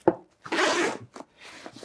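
A zipper on a Condor 3-Day Assault Pack backpack is pulled open: a sharp click, then a long rasping zip, followed by a few shorter zipping strokes up close.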